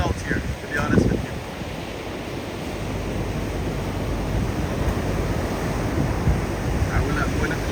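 Rough Caribbean Sea surf pounds the Jamaican shore as Hurricane Melissa approaches, a loud, continuous roar of breaking waves and gusting wind buffeting the microphone, with a brief louder surge near the start.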